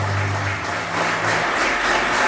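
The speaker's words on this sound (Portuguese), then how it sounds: "aplauda bem forte esse Deus" Church congregation applauding, a dense steady wash of clapping from many hands filling the room, loud and continuous with no talk over it.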